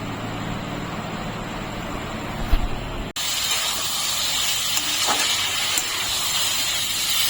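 Pointed gourd is stirred and fried in a spice paste of ginger and a little water, giving a steady close sizzle and hiss, briefly interrupted by a knock partway through.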